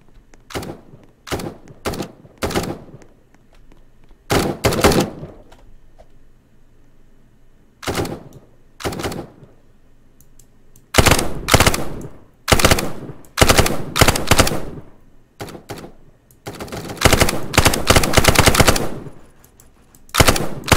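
Gunfire in the Prison Royale video game, coming in repeated rapid automatic bursts separated by quiet gaps, with the longest volleys near the end.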